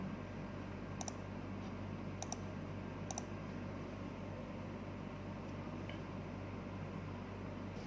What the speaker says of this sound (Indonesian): kita pilih atau kita klik run untuk membuka aplikasinya